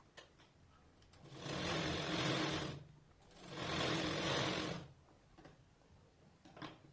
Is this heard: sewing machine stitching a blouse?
yes